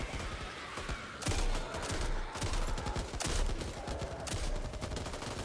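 Bursts of rapid video game gunfire in Back 4 Blood crackle in quick succession, sharp and dense, with several volleys over a few seconds and no talking.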